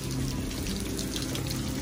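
Steady rush of warm water running continuously at a Punta Cana resort spa, close and fairly loud with no talking over it.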